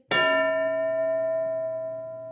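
A single bright metallic bell strike, as a school bell signalling class, rings out close and clear and then sustains with a slowly fading ringing tone.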